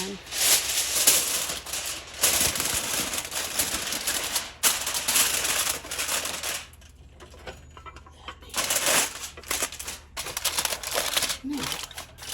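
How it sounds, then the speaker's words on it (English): Aluminium foil crinkles and crackles in dense, busy bursts as it is pressed and sealed around the edge of a cooking pot for dolma, with short pauses between handling. "now I can just seal it around the edge with the foil so it can keep cooking."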